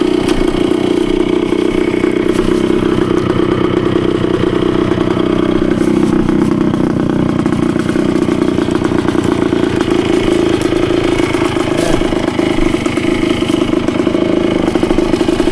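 A Yamaha CT3 175 motorcycle engine burbles steadily at close range, a continuous, loud, low-pitched thrum with a light mechanical clatter running through it and no talking over it.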